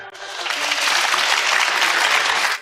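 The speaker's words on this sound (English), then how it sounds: "this round of applause is for you" An audience breaks into loud, sustained applause close by, a dense wash of clapping that lasts the whole stretch with no talk on top.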